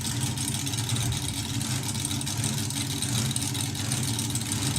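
The nitro slingshot dragster Time Traveller 2 idles and hunts on a drag strip, a loud, close, rough engine rumble whose rhythm lurches unevenly throughout.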